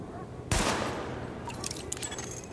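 Gunfire in The Division video game weapon test: a sharp loud shot crack followed by a decaying tail, then a rapid cluster of lighter bursts near the end.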